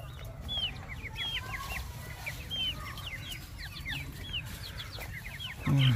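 Several chickens on a farm cluck and chirp in quick, scattered bursts at moderate distance over a steady low rumble, ending with a louder close thump.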